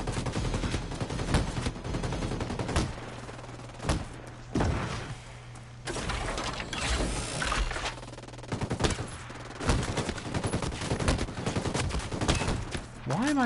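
Dense bursts of automatic gunfire and sharp single shots from the video game Ghost Recon Breakpoint, loud and close, repeating in irregular volleys across a steady combat background with a voice talking at times.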